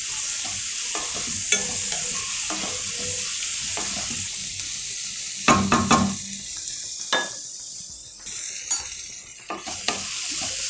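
Vegetables sautéing in a pan before rice is added: a loud continuous sizzle with repeated spatula scrapes and clacks against the pan, heaviest in the middle.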